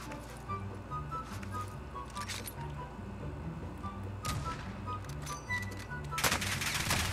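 Call of Duty Warzone gunfire pops in repeated bursts at moderate distance, with shots scattered through the clip and a louder crackling burst near the end, under faint voices and game ambience.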